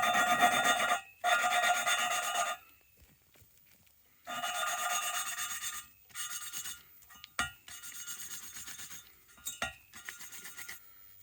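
A valve is lapped by hand with grinding paste against its seat in a Jaguar XJS V12 cylinder head. It gives a gritty rasping scrape in short bursts separated by pauses, close by, with a few faint clicks.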